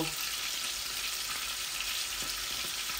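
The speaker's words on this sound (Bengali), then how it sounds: "এখন আমি ফোড়নের মধ্যে একটু কালো জিরা দিব।" Nigella seeds dropped into hot oil for tempering, a steady close sizzle and crackle of frying that holds evenly throughout with no voices.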